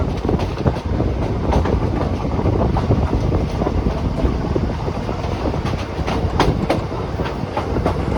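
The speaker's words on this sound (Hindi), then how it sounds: "और ये जो ट्रेन है माँ गंगा के ऊपर से क्रॉस होने वाली है।" The Lucknow to Prayagraj Intercity Express train rolls toward the Ganga bridge, heard from on board as a steady loud rumble with rhythmic clickety-clack of wheels over rail joints and some wind buffeting, with no talking.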